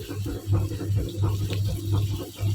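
Water pours into a pan of vada curry, a steady splashing gush with a pulsing low hum underneath, close and fairly loud throughout.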